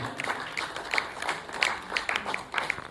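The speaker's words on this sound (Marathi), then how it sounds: "करवीर नगरी मधून टाळ्यांचा आवाज मला असं वाटतं की ह्या सभागृहाच्या बाहेर आवाज दुमदुमला पाहिजे" Audience in an assembly hall at a Shivaji Jayanti celebration and award ceremony in Kolhapur, clapping in a scattered, moderate burst of applause with sharp individual claps close by.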